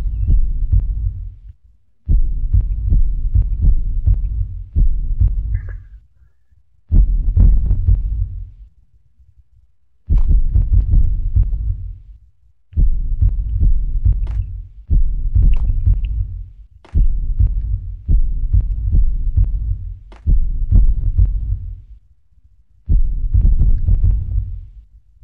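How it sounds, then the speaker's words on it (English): A loud, deep heartbeat pounds in the Max Payne mobile video game, repeated thumping pulses grouped into roughly two-second bursts separated by short gaps, with no talk over it. "I can hear a heartbeat."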